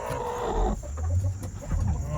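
Backyard chickens settling in for the night give a few soft, close clucks and murmurs at bedtime, quiet and alone with no talking.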